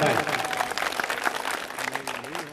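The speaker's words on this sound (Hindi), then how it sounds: "तो एक बार जोरदार तालियां इन हमारे योद्धाओं के लिए बजा के इनका हौसला बढ़ाए" An audience at a political rally applauds its leaders with a steady, moderately loud wash of clapping that fades slightly as a voice begins speaking near the end.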